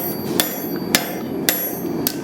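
A hammer rings against a hot lawnmower-blade steel being forged into a simple paring knife, four sharp, evenly spaced metallic strikes about half a second apart over a low forge roar.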